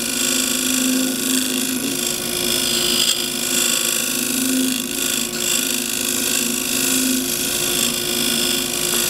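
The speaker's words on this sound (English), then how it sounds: "I can get rid of with the square end scraper I've just been using on the inside" A wood lathe spins steadily while a 3/4 inch square end scraper cuts gently at a wooden cross-grain box, giving a continuous loud whirring drone with a faint scraping texture and no pauses.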